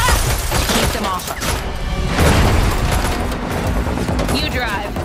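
Bursts of gunfire aimed at car tires during a chase in The Matrix Awakens video game, loud rapid shots mixed with booms and crashes, with voices speaking over the action.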